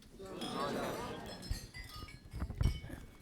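Glasses raised and clinked during a wedding toast, with a few bright clinks and knocks near the end. Voices and crowd murmur sound throughout.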